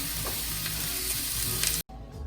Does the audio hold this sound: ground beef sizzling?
yes